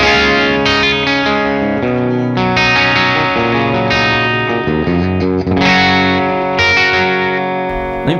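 Electric guitar played through the clean channel of an Orange Rockerverb tube amp, dry with no reverb, ringing chords and sustained notes changing every second or so, loud and close with no talking.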